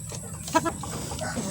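Hens with their chicks cluck close by in a short burst of throaty calls over a steady background hiss.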